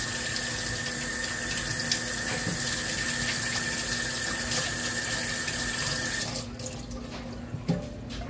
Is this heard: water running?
yes